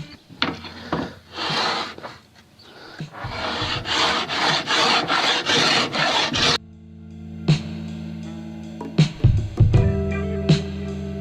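A hand plane shaves a wooden guitar fretboard in repeated rasping strokes, a run of rhythmic passes followed by scattered knocks and scrapes.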